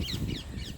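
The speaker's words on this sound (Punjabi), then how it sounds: "ਪੰਛੀ ਬੋਲਦੇ ਪਏ ਨੇ" A crow caws three times in quick succession, harsh and fairly faint, at a jungle campsite, with a low background rumble underneath.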